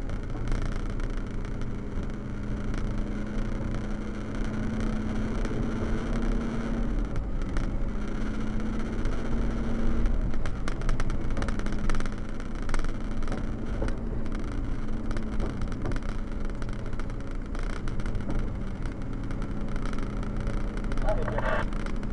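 A rock truck's engine drones in a steady, loud rumble throughout the ride, with wind buffeting and rattling over it and occasional bumps, no clear talking.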